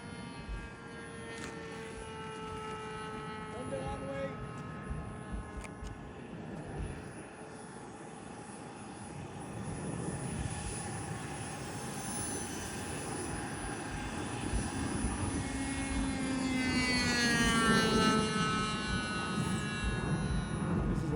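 An airplane engine drones steadily in flight, its pitch shifting and rising slightly as the aircraft maneuvers, with a growing roar toward the end and no talking.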